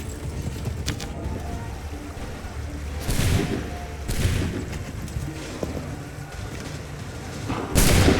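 A musket volley in the video game Assassin's Creed III, battlefield ambience punctuated by several loud, sharp bursts of massed gunfire at irregular intervals, the last one closest and strongest.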